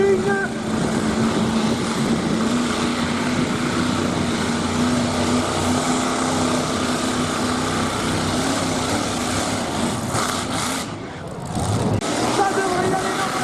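A tractor-pulling competition engine roars loudly and steadily for most of the stretch, dips briefly near the end, then surges again, with crowd and announcer noise mixed underneath.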